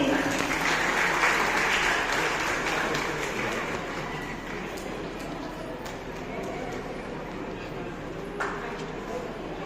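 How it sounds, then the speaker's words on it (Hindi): Sustained audience applause fills a Mother's Day celebration at a school in Basahi, Mirzapur: a dense, steady wash of many hands clapping, loud at first and easing slightly toward the end. "आप करके अपनी तालियों के ग्रुप को कम न रखें।"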